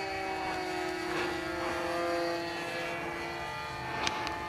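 Fixed-wing propeller airplane engine in high-speed flight, a steady loud droning roar with sustained harmonic tones that swell and fade slightly as the aircraft comes around.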